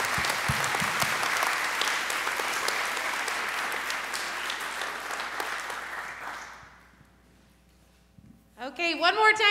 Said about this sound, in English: let's give all of our cast one more hand tonight